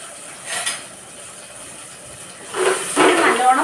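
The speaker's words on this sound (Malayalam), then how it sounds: "ഇളക്കി വഴറ്റി വെക്കാം" Stirring and sautéing garlic in a pan while cooking fish curry, with a brief scrape early on and a louder burst of frying sizzle and utensil scraping toward the end.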